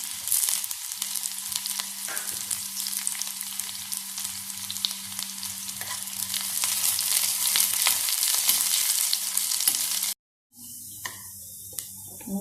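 Curry leaves fry in hot oil with onion for a Kerala dried fish and mango coconut curry, giving a loud, continuous crackling sizzle that cuts out briefly near the end, then resumes.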